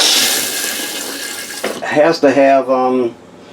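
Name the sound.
RV toilet flushing with water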